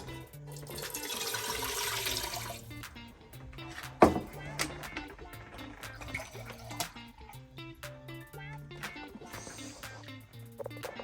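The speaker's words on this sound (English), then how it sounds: "the rest of the water goes directly into the pot" Water pours steadily into a large pot to dilute masa for atole, a broad splashing rush for the first few seconds, followed by a single sharp knock and quieter kitchen sounds with faint low hum.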